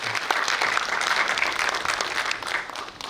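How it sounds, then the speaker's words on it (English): An audience at a Toastmasters district meeting claps in sustained, dense applause, loud and continuous throughout with no break. "give a round of applause to all these people"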